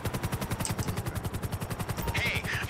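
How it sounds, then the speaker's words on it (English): A helicopter in a video game, its rotor making a steady rapid thumping pulse that stays loud throughout, with bursts of other game noise near the end. "Oh, of course, the helicopter coming."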